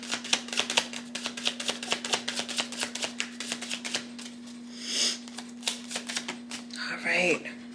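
Tarot cards shuffled in quick, close riffling bursts, then a card drawn and laid down, with a constant low hum underneath and a voice speaking near the end.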